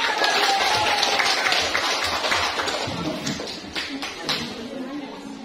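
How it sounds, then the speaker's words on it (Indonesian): A classroom of students applauds during a chemistry lesson on ionic and covalent bonds, a dense patter of many hands clapping together, fairly close and steady, with voices mixed in underneath. "Oke, beri tepuk tangan."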